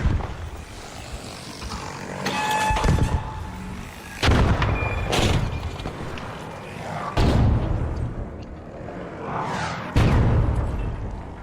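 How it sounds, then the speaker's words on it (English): Bombing explosions in a video game: four heavy blasts with rumbling tails land a few seconds apart over a low, continuous battlefield drone, with no voices. "I'm getting bombed at."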